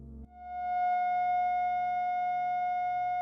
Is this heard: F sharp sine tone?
yes